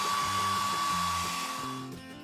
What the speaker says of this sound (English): Direct a stream of hot air from a hairdryer to it so they drip down.